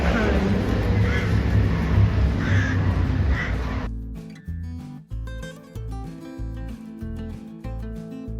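Crows caw a few times against a noisy roadside background during an art road trip, followed by a rhythmic, bumpy knocking sequence of repeated low thuds.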